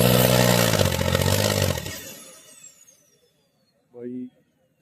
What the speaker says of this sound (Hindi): मिसिंग मार गया था भाई ट्रैक्टर।